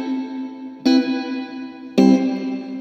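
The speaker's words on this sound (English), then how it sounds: "That's reverb turned on to the max." Guitar notes played through an amplifier with the reverb at maximum ring out in a long wash. Two fresh plucked attacks each swell into a sustained, echoing tail.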